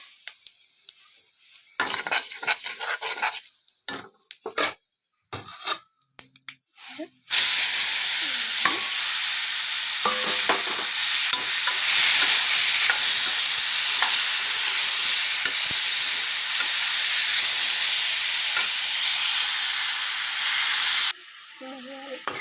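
Mustard seeds crackle and sizzle in hot oil in a pan as the base for a sour curry, stirred. A few utensil clinks come first, then a loud, steady frying hiss runs without a break until just before the end.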